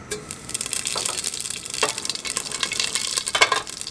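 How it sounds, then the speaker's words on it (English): Cumin seeds hitting hot oil for North Indian rajma masala, a loud, close, crackling sizzle that rises and stays steady with faint stirring clicks throughout. "Our oil is hot. I'm going to add this cumin seed right here."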